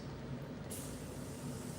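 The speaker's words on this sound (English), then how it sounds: "And I just spray the mist." A Morphe setting mist sprays onto a face with a soft, breathy hiss that starts partway through and keeps going over a steady low background hum.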